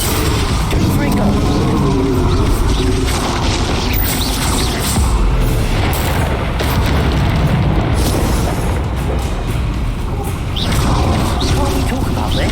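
Spell explosions from Confringo and Bombarda casts in the video game Hogwarts Legacy, a continuous dense barrage of booming blasts and crackling bursts over rumbling combat noise, with voices shouting throughout.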